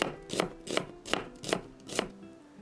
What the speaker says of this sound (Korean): 대파와 양파를 썰어주세요